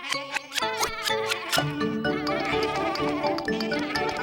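Sheep bleat repeatedly over a busy musical backing, the calls loud and close, overlapping in a dense, layered mix.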